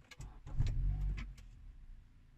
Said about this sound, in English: Then I'll start the car.